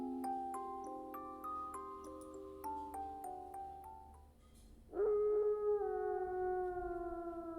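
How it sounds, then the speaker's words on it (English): A long, wavering howl from the video game Raging Loop rises suddenly and loudly, gliding slowly downward in pitch, after a stretch of plucked, stepping game music. "A howl."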